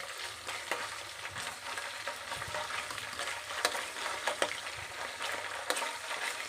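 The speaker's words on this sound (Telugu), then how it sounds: "ఇప్పుడు కొంచెం అల్లం పేస్ట్ వేసుకుందాం. కలుపుకోవాలి పచ్చి వాసన లేకుండా." Ginger paste stirred and fried in a pan for an okra curry: a steady, close sizzle runs throughout, broken by scraping spoon strokes and a few sharper clacks, with no voices.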